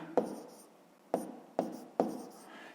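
A hand writes out a fifth-grade maths exercise, four distinct pen or chalk strokes tapping and scratching close up at an uneven pace, each stroke a sharp attack fading into a brief scrape, with no talk.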